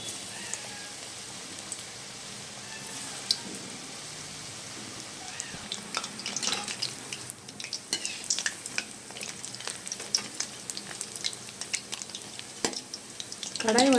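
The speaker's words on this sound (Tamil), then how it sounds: "கடாய் வந்து மீடியம் ஃப்ளேமில் வச்சு நம்ம ஒரு 2-3 மினிட்ஸ் ஃப்ரை பண்ணிடலாம்." Cauliflower pakoda deep-fries in oil in a kadai over medium flame, a faint steady hiss that swells after a few seconds into dense rain-like crackling and popping, close and alone.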